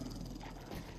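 Dog barking inside a factory in the survival video game 7 Days to Die, a short close bark sitting over steady game ambience with no talk.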